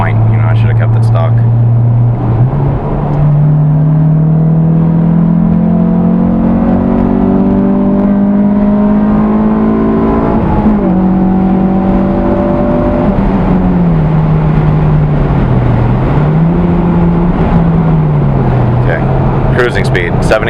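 Honda S2000 with a Milltek dual exhaust, roof up, cruising at highway speed: a steady low engine drone with gentle pitch shifts and constant road and wind noise filling the cabin.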